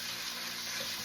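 Oil sizzling in a hot pan while cooking vegetarian lumpia, a steady bright hiss lasting about a second with no pauses and no talk.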